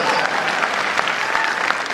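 Dense applause from an audience at a live satirical poetry recital, a loud continuous patter of many hands clapping throughout.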